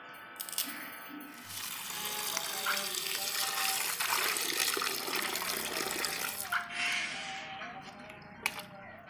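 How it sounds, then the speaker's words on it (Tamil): Coriander and mint leaves are rinsed in water from a running tap, which gives a steady, close splashing and gushing wash that continues throughout. "இப்போ பானி தண்ணி ரெடி பண்ண கொத்தமல்லி, புதினா நம்ம க்ளீன் பண்ணிக்கலாம்."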